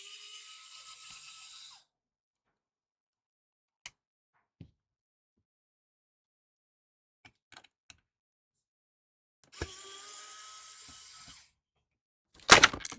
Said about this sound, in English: now we got some more screws here to take out